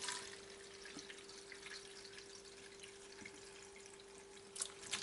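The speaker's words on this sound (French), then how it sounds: "je transvide mon vin dans la passoire" Red wine marinade for a beef daube, used after soaking beef cheeks and shank, is poured through a kitchen strainer, making a faint, steady trickling flow with a light splash near the end.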